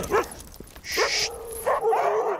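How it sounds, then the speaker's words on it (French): Alaskan husky crossbreed sled dogs, kept through the Mongolian winter, whimper and yip close by in a series of high, squeaky whines and short yelps with brief gaps between them. "C'est des Alaskan Husky, en fait, c'est des croisés, quoi."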